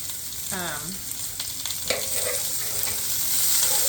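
Garlic sizzles steadily in a pan while braised pork chops are prepared, a close hiss of frying that holds throughout, with brief clinks of stirring and no speech.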